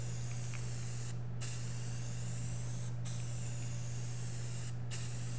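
Rust-Oleum Ultra Cover primer hisses steadily from an aerosol spray can, a loud, continuous close spray with brief gaps between three bursts, alone without talk.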